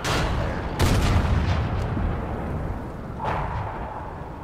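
Tank guns fire in World of Tanks as deep booming blasts, one heavy report near the start and another a few seconds later, each rolling out over a dense low rumble of battle noise.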